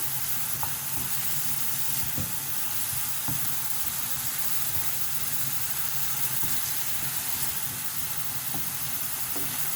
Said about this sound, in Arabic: كندير الزيت والبصله كنبقاو نشحروا فيها.